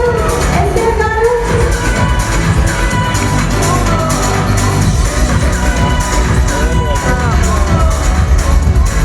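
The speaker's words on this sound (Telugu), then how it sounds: "మీరందరూ ఒకసారి గట్టిగా క్లాప్ చేస్తూ వెల్కమ్ చేద్దాం" An audience at a Telangana women's excellence event claps and cheers to welcome an actress to the stage, a dense, loud, continuous roar of applause and crowd noise with music running underneath.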